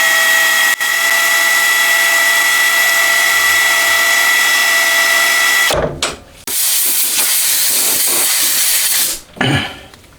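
A metal lathe turns down a steel shaft to thread size for an M12 thread, giving a steady, loud hissing cut for several seconds that breaks off, resumes briefly and then stops again.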